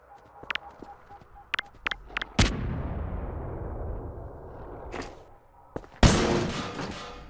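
Grenade explosions go off in the video game Entropy Zero, with two loud, booming blasts that each tail off into a long rumble. Sharp clicks and small impacts come before them.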